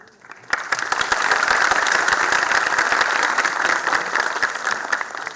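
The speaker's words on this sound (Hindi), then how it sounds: "बीस 30 लोगों ने ताली बजाई है," Twenty or thirty audience members clap at the opening of a Delhi Technological University poetry tribute event for martyrs, with sustained, moderately dense applause that starts abruptly and holds steady.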